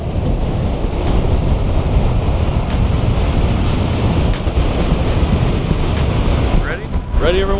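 Strong wind at a summer beach roars into the microphone alongside crashing surf, loud and continuous, with a brief splash or squeal near the end.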